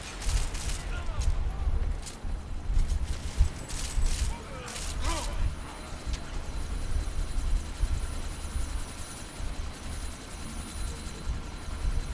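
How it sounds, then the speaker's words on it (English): A helicopter's rotor thrums steadily at close range in Deus Ex: Mankind Divided, mixed with bursts of gunfire and mechanical clatter while voices speak over it. "That chopper's about to take off."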